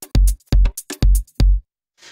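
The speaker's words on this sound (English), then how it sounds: "So what I've now got is a running series of 16th notes based on the slices that were chopped" Sampler playing a sliced drum loop as random 16th-note hits: four punchy kick-heavy thumps with quick ticks between them, close and dry, then a short fading tail.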